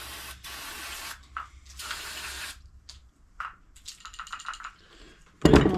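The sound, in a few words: spraying cleaner on a Polaris snowmobile carburetor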